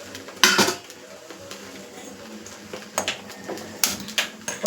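A spoon scrapes and clanks against a cooking pot while food simmering on a low stove flame is stirred, giving irregular metallic knocks and scrapes, close and fairly loud, with no talk.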